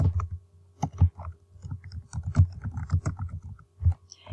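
Close, crisp clicks of typing on a computer keyboard in short irregular bursts, heard alone.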